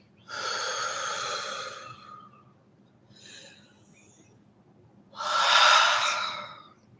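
Slow guided breathing during a relaxation exercise: a long breath lasting about a second and a half, a faint shorter breath, then another strong breath a few seconds later, close and breathy with no talking.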